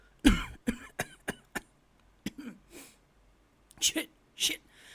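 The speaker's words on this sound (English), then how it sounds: "Immediately I start to cough, as if I have something stuck in my throat." In the horror game Trick & Treat, a character coughs in a rough series of close, harsh bursts, several quick coughs then a pause and two more strained fits, as if something is stuck in the throat.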